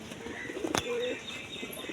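Pigeons kept as flying birds, a Karna pair, give a low, soft coo with a brief chirp-like burst near the middle, heard close and fairly quiet against light background noise.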